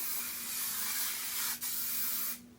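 Heat protectant sprayed onto hair before styling, one long continuous close hiss broken by a brief pause, then ending abruptly.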